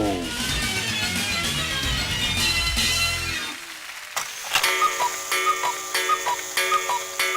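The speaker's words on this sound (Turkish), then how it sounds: "Bu kesinlikle guguklu saat sesi" A cuckoo clock, first under a dense music-like passage, then ticking alone in a steady, even rhythm with bright repeated chime-like tones, close and clear.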